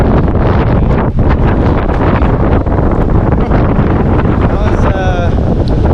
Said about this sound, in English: we're getting very close to where the main winds are going to be. There's probably some 70-mile-per-hour wind gusts happening